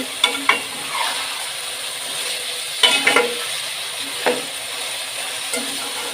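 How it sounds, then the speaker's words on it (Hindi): Onions frying with chicken for degi biryani give a steady, even sizzle throughout, broken by a few scraping stirs of a utensil in the pan, close up, with no talking. "अब इसको होने देंगे हम फ्राई।"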